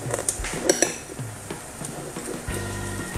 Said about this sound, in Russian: вот мы тщательно перемешали наш салат.